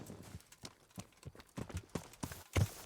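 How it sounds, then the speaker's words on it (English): In the Kingdom Come: Deliverance video game, a horse's hooves clip-clop in quick, uneven steps that grow louder as it draws near, ending in a heavier thud, quiet overall. "Let's just call our horse"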